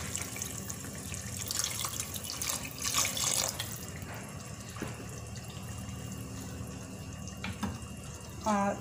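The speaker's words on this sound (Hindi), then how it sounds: "अब इसमें शामिल कर देना है पानी हस्बे ज़रूरत।" Water is poured into a pot of simmering kebab curry on a home stove, making a soft running, splashing trickle for several seconds, then quieter bubbling and a small clink near the end.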